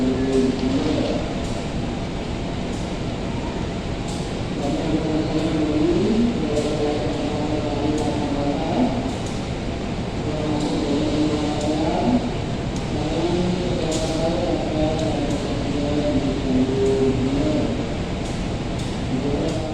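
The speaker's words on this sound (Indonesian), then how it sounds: "ini Tawang Jaya Premium masuk Semarang Tawang" The Tawang Jaya Premium train, an overnight service from Jakarta, pulls into Semarang Tawang station with a steady engine drone and rumble, rising and falling in waves as it rolls in.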